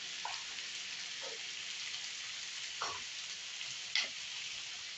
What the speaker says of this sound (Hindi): अच्छे से सब्जी को भून लेंगे ढक ढक के